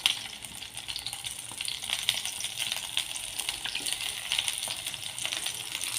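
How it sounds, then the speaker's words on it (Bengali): Eggplant and tomato fry in hot oil, making a continuous close sizzle with light crackles and small clinks of a utensil, and no voices. "বেগুনটা আগে ভেজে নেব, বেগুন আর টমেটো একসাথে ভেজে নেব"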